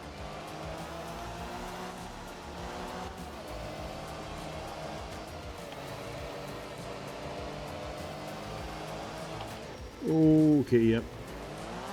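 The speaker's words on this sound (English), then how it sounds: "we had to skid out a little but that was better than flying off the road" A rally car in the video game Art of Rally drones steadily with engine whine rising and falling through a corner, ending in a short loud burst, while a person speaks briefly over it.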